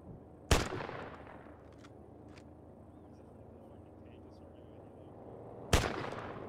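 Two sharp, loud gunshots from Arma 3, one near the start and one near the end, each with a short decaying tail over a low battlefield rumble, with voices talking in between.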